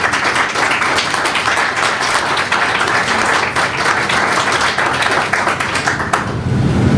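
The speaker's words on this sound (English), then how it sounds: "just give these individuals a round of applause and appreciation" A crowd at a school board business meeting gives sustained applause, loud and dense with many hands clapping at once, before the clapping thins out and stops near the end.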